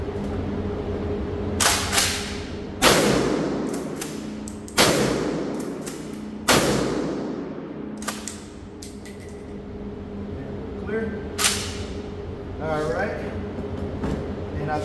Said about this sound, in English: Just to fire a few more shots off. Get a little better feel for it real quick. I'll just shoot about 3 of them.